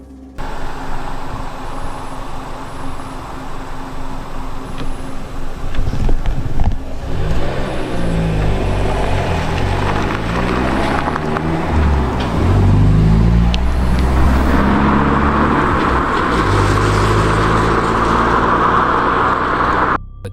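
A car starts moving and drives off at night, a rumbling engine and tire noise rising, shifting pitch as it pulls away, then settling into a steady road drone.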